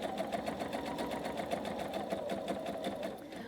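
A sewing machine runs steadily, stitching trapezoid pieces of a quilt together in a rapid, even mechanical patter that carries on for several seconds up close, then eases off at the very end.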